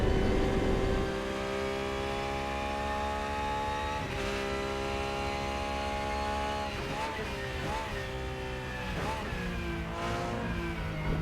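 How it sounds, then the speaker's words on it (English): A rear-engine Porsche race car in the Rennsport racing game at the Hockenheimring drones steadily at high revs, then its pitch dips and climbs through a series of gear changes and throttle lifts. "the Porsche is a rear engine car, so the noise is coming from the right place."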